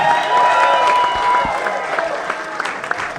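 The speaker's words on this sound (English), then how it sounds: "give it up for Diana." A crowd at a special election victory event for a county executive applauds and cheers, sustained clapping close and full at first, then thinning slightly toward the end.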